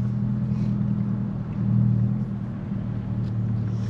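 A stick-shift car engine hums and rumbles as it accelerates, with a steady low drone that swells briefly midway, heard from inside the cabin.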